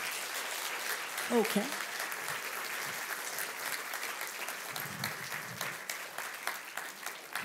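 A conference crowd at an organisation's tenth-anniversary celebration gives a round of applause, a sustained crackle of clapping that carries on while a voice speaks briefly over it.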